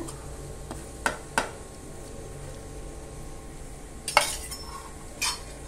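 Dry coconut stirred in a pan over a low gas flame, with a few sparse scraping and clinking strokes of the utensil against the metal, quiet and close, and no talking.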